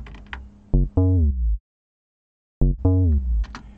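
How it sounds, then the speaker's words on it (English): Simple, very important bassline from a track: two bursts of deep sliding synth bass notes, bright and loud, separated by a long gap of silence, with a short higher hit at each end. "now I'll show you the bassline"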